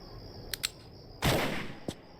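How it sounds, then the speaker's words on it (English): Gunfire in a Tomb Raider video game: two quick sharp shots, then a louder, longer burst with a rumbling tail, and one more short crack near the end. "What does the cowboy hope to achieve with this mindless firing?"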